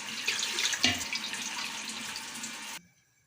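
Water pours into a cooking pot from the tap, a close, steady splashing rush for about three seconds that cuts off sharply, with no talking.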